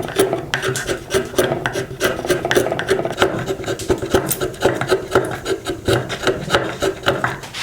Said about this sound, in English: put it in the vise here and just start chiseling away sort of the waste here